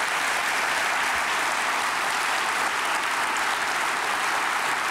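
Dense, steady applause from a studio audience for a band on a German TV show, a broad continuous wash of many hands clapping at even loudness throughout.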